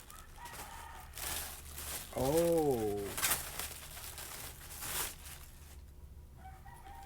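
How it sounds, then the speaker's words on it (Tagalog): A rooster crows once, a wavering harmonic call lasting about a second, close by amid background noise and a brief exclamation from a person. "sorry na sa ingay ng manok guys"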